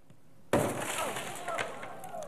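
A RESQME keychain tool's spring-loaded pin strikes a car window, giving a sudden loud snap followed by a crackle of shattering tempered glass that settles into a continuing rattle of loose fragments.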